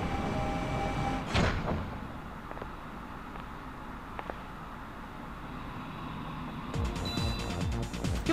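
A magic door bearing Mickey Mouse's face opens in Kingdom Hearts, with a sharp thud and sliding rush near the start, a low steady hum through the middle, then a brighter clattering burst toward the end; no one speaks.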